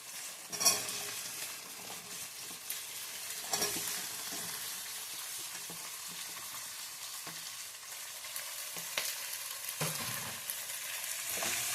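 Chopped medium onions frying in oil for oggarane rice, a steady sizzle with occasional scrapes of stirring, moderately close and alone throughout.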